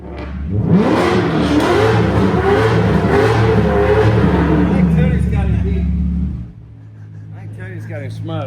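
A BMW 335i with a new aftermarket exhaust revs hard up close, a loud, sustained climbing engine roar for about six seconds before it drops away to a low idle rumble while voices continue.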